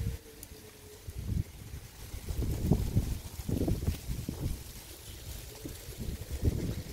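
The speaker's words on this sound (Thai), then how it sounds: "ลมพัดพี่น้องเอ้ยใบไม้ก็เริ่มร่วงลงมาแหละ" Autumn wind gusting outdoors along a park walking path, a low rumbling blow that swells and fades in uneven gusts, with no talk over it.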